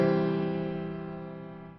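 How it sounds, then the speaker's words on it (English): A rich, balanced four-voice harmony sustains as a single chord, full and steady, slowly fading over under two seconds with no talking. "the 4-voice texture would sound more rich and balanced"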